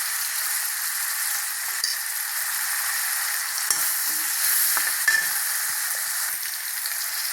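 Tomatoes frying with curry masala powder in a pan for a radish curry, a steady close hiss of sizzling oil with occasional faint stirring scrapes, no voices.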